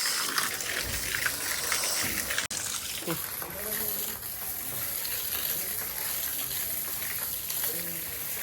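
Water gushes steadily from a hose pipe while plants are watered outside a house under construction, a constant broadband rush throughout with voices talking faintly underneath.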